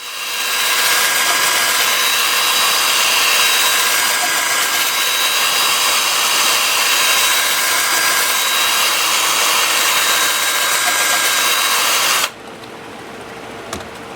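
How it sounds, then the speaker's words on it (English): Sandpaper rubs against an apricot wood bowl turning on a wood lathe spinning in reverse at 250 RPM, a loud, continuous hissing whir that holds steady for twelve seconds and then drops away sharply, leaving quieter motor hum. "I have the lathe spinning in reverse at 250 RPM. I'm starting at 80 grit and working up through 400."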